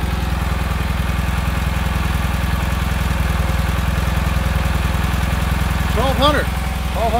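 Engine idling at about 1,200 rpm, a steady close low drone with constant rhythmic pulsing, and a brief burst of talking near the end.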